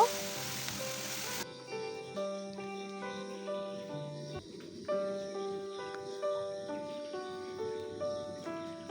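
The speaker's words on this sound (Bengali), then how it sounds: "ঘিটা যখন গলে আসবে তখন আমি গ্রেট করা গাজরগুলো দিয়ে দিব দু তিন মিনিট গিয়ে গাজরগুলোকে ভেজে নিব" Grated carrots frying in melted homemade ghee for carrot halwa give a soft, steady sizzle with faint stirring, heard quietly beneath continuous background music.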